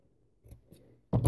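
Scissors snip through paper flower petals: a couple of faint cuts, then a louder, closer crunching snip at the end.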